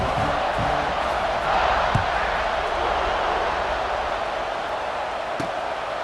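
A stadium crowd roars steadily at an EA Sports College Football 26 game, a broad, loud wash of cheering that holds for the whole stretch, with a few sharp thuds and a commentator talking over it.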